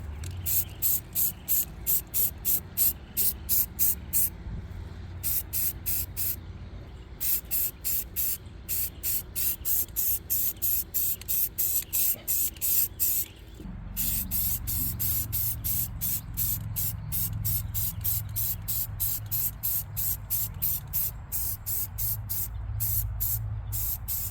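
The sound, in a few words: spraying rust converter coating onto truck rust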